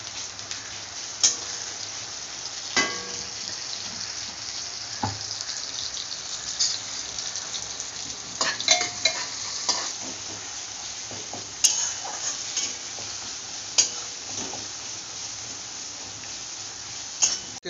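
Tomatoes and onions frying together in a pan, heard as a continuous sizzle with repeated scraping and stirring knocks at irregular intervals, some of them sharp and close.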